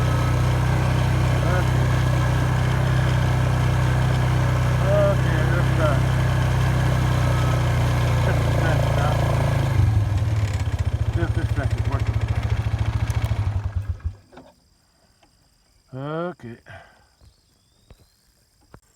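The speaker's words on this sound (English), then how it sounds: "Me and my Shadow driving the ATV." An ATV drives along a pasture fence line, its engine a loud, steady droning rumble close by that cuts off near the end, followed by a few faint knocks and a short rising whine in near quiet.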